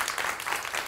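Hands clap in a rapid, continuous patter of sharp slaps, moderately loud and close, with no talking over it.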